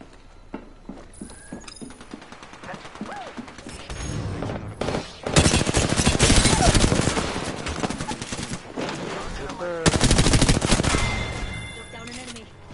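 Gunfire in a battle royale video game, with bursts of rapid automatic shots loud in the middle and again near the end, over quieter game ambience and scattered effects.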